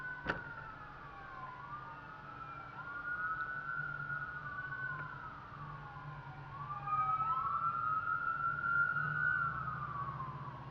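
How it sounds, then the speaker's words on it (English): An ambulance siren wails in long rising and falling sweeps, quite faint and distant at first, then growing louder and closer toward the end over low traffic rumble, with no talking. "That's the weirdest kind of ambulance."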